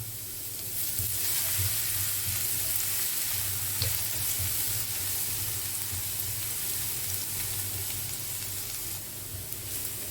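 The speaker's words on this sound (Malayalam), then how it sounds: "ഓയിലൊന്ന് ചൂടായി വരുന്ന സമയത്ത് ഒരു 3-4 വെളുത്തുള്ളി എന്ത് ചെയ്യുക, നമുക്കിതേപോലെ ചോപ്പ് ചെയ്തത് ഒന്ന് വാട്ടിയെടുക്കാം" Chopped garlic sautéing in hot oil in a pan, a loud, steady, close sizzle and crackle that persists throughout with faint stirring movements underneath.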